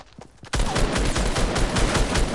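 Rapid bursts of gunfire from the video game Fortnite start abruptly after a brief quiet moment, then rattle on densely and loudly, like a fusillade of shots heard close up.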